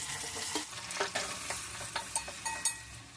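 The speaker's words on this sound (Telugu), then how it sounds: "ఒక గిన్నె తీసుకొని దాంట్లో ఆయిల్ వేసుకుందాం అండి పచ్చిమిరపకాయలు వేసుకుందాం బాగా ఫ్రై అవ్వాలండి పచ్చిమిరపకాయలు" Green chillies fry in oil in a pot, making a dense, close sizzling hiss with a series of light clinks and scrapes from stirring, and no voices.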